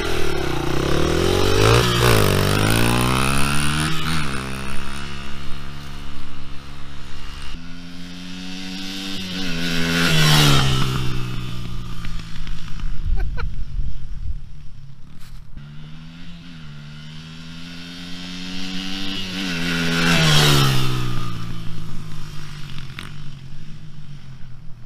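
A 2008 Honda CRF80F dirt bike making speed passes, its small engine revving up through the gears and fading, then approaching again, loud and close at the peaks of each pass.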